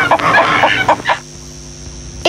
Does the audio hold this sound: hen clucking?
yes